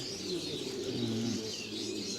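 A pigeon coos in a low, repeated murmur close by, a soft steady cooing with faint chirps over a quiet outdoor background.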